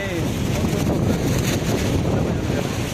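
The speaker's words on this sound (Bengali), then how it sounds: "দারুণ হাওয়া দিচ্ছে" Strong wind buffets the microphone outdoors near the Mansa Devi temple in Haridwar, a loud continuous rumbling roar throughout, with a voice faintly heard beneath it.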